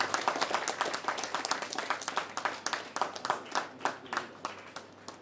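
A group claps for a student at an award announcement, starting as a dense burst and thinning into loose, uneven claps that fade toward the end, with no talk over them.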